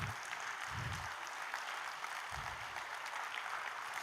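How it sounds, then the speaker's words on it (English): Audience applause for the musicians after a music and meditation session at a wellness expo, a steady, fairly quiet wash of clapping that holds throughout with low thumps underneath. "Let us all give a big round of applause to them."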